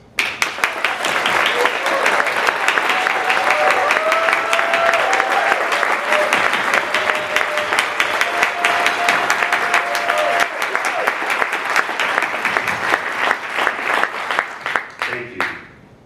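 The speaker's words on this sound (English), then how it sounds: "extending a round of thunderous applause" A large audience at an education gathering breaks into sustained, thunderous applause, dense and steady for about fifteen seconds with scattered voices and cheers mixed in before it tapers off.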